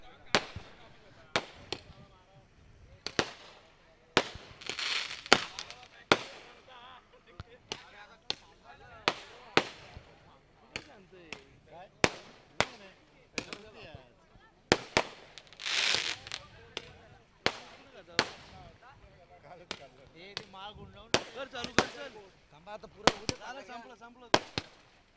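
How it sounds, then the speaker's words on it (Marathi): Firecrackers and fireworks bursting at a local cricket tournament, a long series of loud sharp bangs at irregular intervals with crackling between them, and a voice talking at times. "फटाक्यांची आतिषबाजी या ठिकाणी थांबवलेली आहे"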